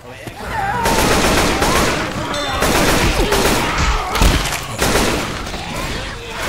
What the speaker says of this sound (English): You are shooting me!